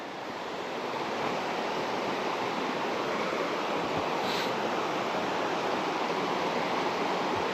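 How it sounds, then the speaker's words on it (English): Water rushes through rocks in a cave with a steady, dense roar that holds constant throughout, close and loud with no other sounds. "hear the water through the rock spots right there"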